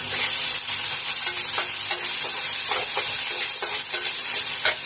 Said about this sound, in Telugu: ఉల్లిపాయలు మనకు కాసేపు ఫ్రై అవ్వాలి